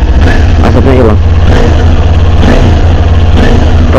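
A motorcycle engine idles loudly in the cold of a snowy winter, warming up with a rough, busy two-stroke-like rattle that holds steady, with small revs swelling and fading throughout.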